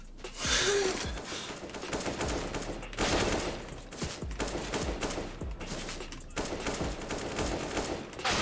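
AK rifle firing in a video game, loud repeated bursts of automatic gunfire in quick rattling volleys with short pauses between them, continuing throughout with no talk.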